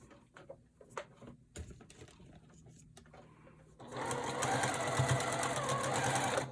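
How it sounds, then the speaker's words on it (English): After some quiet handling and shifting, a sewing machine starts top stitching a patchwork piece onto a kitchen towel, giving a steady, rapid mechanical whir and needle chatter that runs close and continuous to the end. "And I'm just going to top stitch that on."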